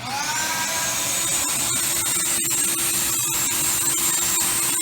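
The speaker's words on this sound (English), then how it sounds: "a homemade extractor like you would use at home with your shop vac" A loud, steady homemade shop vac carpet extractor whines and roars continuously with a high-pitched hum, crackling and sucking noises throughout.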